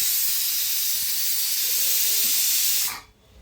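A pressure cooker on a stove letting off a loud, steady hiss of steam right up close, which cuts off abruptly near the end.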